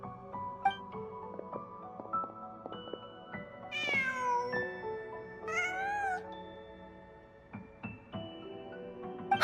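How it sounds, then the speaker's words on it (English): A cat in the Genshin Impact game meows several times, one long rising cry near the middle and another a couple of seconds later, over soft melodic background music. "Just a cat."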